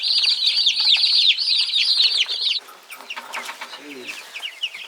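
Young meat chickens cluck and cheep in a close chorus, with busy peeping that drops off midway, leaving softer scattered calls and light scuffling.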